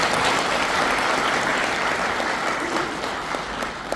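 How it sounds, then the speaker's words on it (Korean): Steady, dense applause from an audience at a Korean regional association humanities lecture hall, a continuous wash of many hands clapping at even loudness with no voices over it. "여러분들 모두를 위해서 박수 한번 자주 해주십시오"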